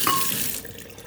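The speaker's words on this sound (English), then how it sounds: "I'm just going to pour it in here so I can drink it all day and keep it cold" A blended chocolate-berry drink pours into a cup in a short, steady liquid stream that tapers off after about half a second, close and clear.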